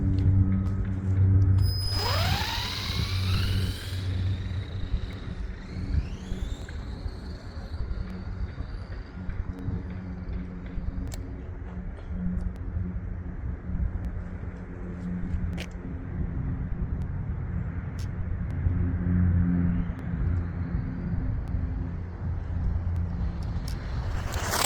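Brushed-motor RC car on a long speed run: a sharp whine rises quickly in pitch as it accelerates, then the motor noise recedes into the distance and fades under steady background noise, with no talk.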